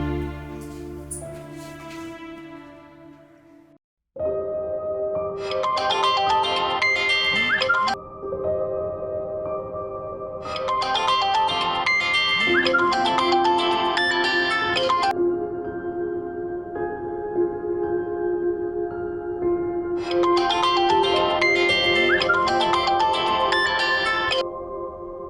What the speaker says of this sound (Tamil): அப்பல இருந்து ஃபோன் வந்துட்டே இருக்கு, நீங்க ஏன் எடுக்க மாட்டீங்க?